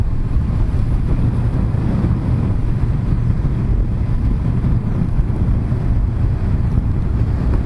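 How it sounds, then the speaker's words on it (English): Steady, loud wind roar buffeting a motorcycle helmet at speed on a 2019 Kawasaki Ninja 1000, a dense low rumble that holds evenly throughout with no voices. "I can hear the wind more than feel it around my helmet"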